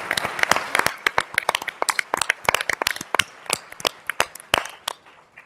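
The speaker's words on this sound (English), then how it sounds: "I want to give an applause to everyone on the team that worked on this." Scattered applause from an audience at a business awards symposium, a few close, sharp hand claps in an uneven rhythm with no talking.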